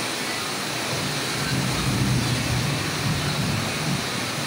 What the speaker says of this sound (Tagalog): So yun guys, napakalakas ng ulan.